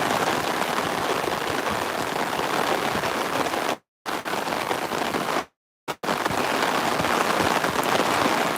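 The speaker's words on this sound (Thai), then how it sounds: "ฝนมันสาดด้วยนะ มันไม่ตกลงมาตรงๆ" Heavy rain driven sideways by the wind pours steadily across an open parking area, a loud continuous hiss broken by two brief dropouts, with no voices.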